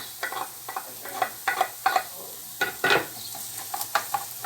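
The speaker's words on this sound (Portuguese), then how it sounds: "vai acrescentar o alho e a pimenta" Garlic and pepper sizzle in a pan of browned ingredients for a caprese risotto, with a steady fry hiss under repeated scraping stirs from a utensil, close and without talk.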